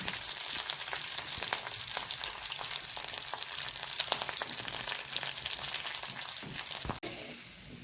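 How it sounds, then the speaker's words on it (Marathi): Kothimbir vadi made with moong dal flour, with curry leaves, frying in a little oil in a pan, giving a steady, close crackling sizzle with scattered pops and a brief clink near the end. "आपण आता याच्यामध्ये वड्या परतून घेणार आहोत थोड्याशा ऑइलमध्ये."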